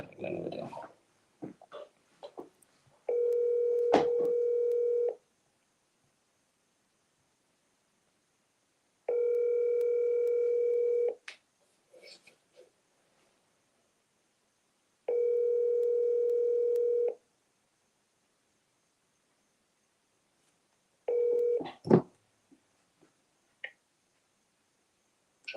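A telephone call being placed: three long, steady dial-tone bursts at regular intervals with short rhythmic beeps between them, followed by brief clicks, heard alone with no talking.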